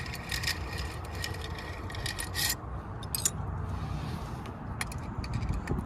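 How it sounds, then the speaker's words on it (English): Close metal tool work on the screws and bolts of a Sniper holster mount: a steady rasping, scraping rub broken by short sharp clicks and knocks, with no voices. "You'll just take these 2 screws right here, these 2 bolts."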